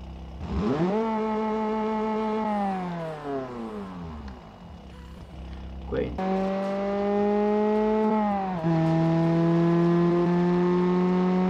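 A car engine in BeamNG revs up and down in long sweeping pulls, rising then falling in pitch twice with a brief gap between, loud and close with no other sounds.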